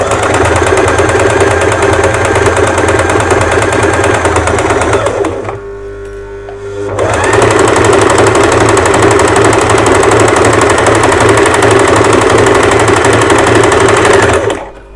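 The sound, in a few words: sewing machine stitching a blouse belt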